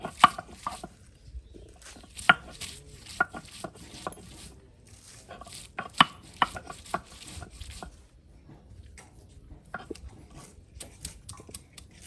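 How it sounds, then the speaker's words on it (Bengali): Pui shak (Malabar spinach) leaves finely chopped with a knife in an outdoor home courtyard kitchen, giving irregular bursts of sharp, close blade taps on a board with short pauses between runs. "এখন পুঁই শাকের পাতাগুলো একদম কুচি কুচি করে কেটে নেওয়া হবে"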